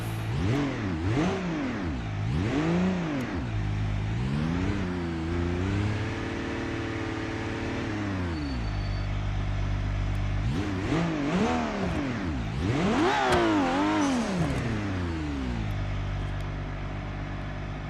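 A modified car in BeamNG.drive revs hard and accelerates loudly through repeated gear shifts, its engine note climbing and falling in sweeping waves, with no talking over it.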